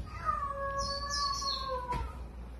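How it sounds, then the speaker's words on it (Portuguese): A cat meows in a long drawn-out call with a rising, wavering cry, played as a prank from inside a trash bin, clear and close over low background rumble. "Tem algum gato aí, cara?"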